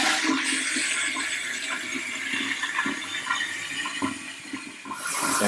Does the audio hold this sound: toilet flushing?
yes